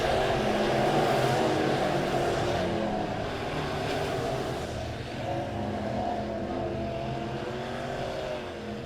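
USRA B Modified race cars roar around Springfield Raceway, a loud, continuous blend of engines droning from nearby, with pitches shifting as the pack comes off the final turn.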